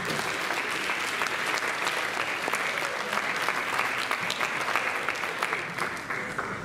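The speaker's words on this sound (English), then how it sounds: "Let's give them a round of applause" Sustained audience applause fills a graduation party hall, dense and steady throughout, with a few whoops and faint voices mixed into the crowd noise.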